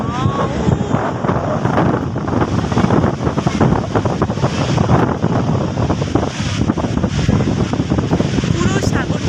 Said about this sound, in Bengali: দেখো কি সুন্দর ঢেউ আসতেছে।